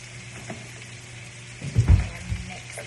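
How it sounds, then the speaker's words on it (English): Sliced chicken apple sausage sautes and browns in a pan for shrimp jambalaya, a low steady sizzle that swells into a burst of stirring and scraping near the end before settling back. "I'm gonna let this saute and kind of brown for about 5 minutes"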